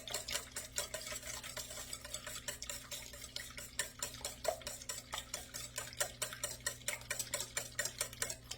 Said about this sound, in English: I think I'm going to mix it right in the bowl